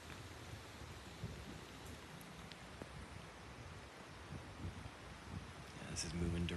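An approaching thunderstorm on the afternoon of August 30: a faint, distant hiss of rain and low rumbling thunder runs steadily throughout, swelling slightly toward the end.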